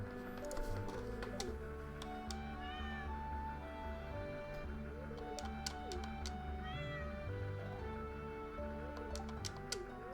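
A cat meows repeatedly in the Stardew Valley farming game, short chirpy game-style calls scattered over steady background music and light ticking sounds, no talking.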